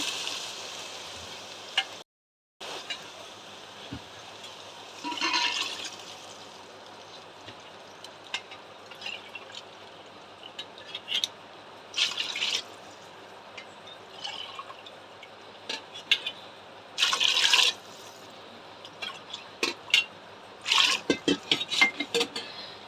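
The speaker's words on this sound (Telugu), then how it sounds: "నాలుగు గ్లాసుల బియ్యం పోస్తున్నా బాస్మతి బియ్యము" Water is poured glass by glass into basmati rice in a pot, giving several short splashing pours separated by quiet gaps, fairly faint and close, with no talk.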